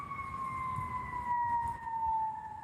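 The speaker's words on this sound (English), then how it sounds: "I'm going to allow that siren to pass." A fire engine siren wails steadily in the distance, a faint sustained tone slowly dropping in pitch as it passes, heard alone over quiet background hum.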